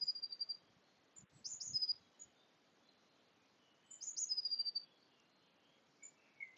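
Morning outdoor ambience with high bird chirps in two short bursts and a few lone calls over a quiet, faint background.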